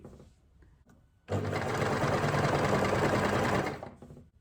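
A sewing machine runs steadily for a couple of seconds, stitching stretchy knit fabric, with a loud, even mechanical whir that starts abruptly and then tapers off. Handling noise is audible before and after.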